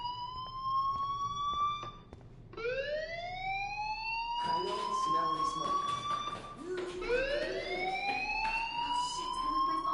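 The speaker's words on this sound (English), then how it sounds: "Hey, do you hear that fire alarm?" School fire alarm in the Life Is Strange video game: a loud, steady, repeating electronic tone that rises in pitch with each cycle, continuing throughout with background game noise.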